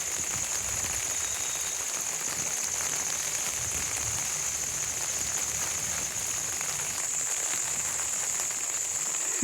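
Rain falls steadily under a part-sunny sky, a soft continuous hiss with no breaks, joined by a thin high steady tone throughout.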